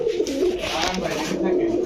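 White pigeons coo steadily at a bird market stall, a soft repeated throaty burble running through the whole moment while people talk nearby.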